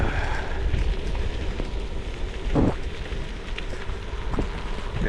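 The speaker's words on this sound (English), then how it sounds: "There's enough rain so that I can taste the raindrops." Steady rain falls around a rider out on a ride, a dense, even hiss of drops close by with a brief louder splash or gust midway, and no voices.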